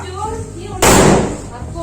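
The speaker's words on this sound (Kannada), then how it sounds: "ಪಟಾಕಿ ಇವಾಗ ಬಾಂಬ್ ಹಚ್ಚುತ್ತಾ ಇದ್ದಾರೆ." A single loud firecracker bomb bang bursts out abruptly during Diwali after a moment of voices, its crackling blast fading over about half a second.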